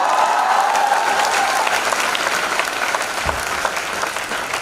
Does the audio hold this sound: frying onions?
no